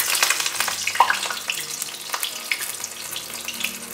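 Pumpkin leaves wrapped around prawn paste fry in hot oil in a wok over low heat, giving a steady close sizzle with scattered crackles and pops throughout, with no talking.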